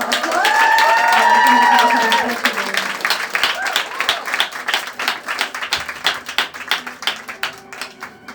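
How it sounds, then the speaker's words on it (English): After a brief musical passage, an audience at a youth-organised exhibition event in Sydney breaks into applause, a lively round of many hands clapping that thins toward the end. "can we also get a round of applause for Dana and Sasha?"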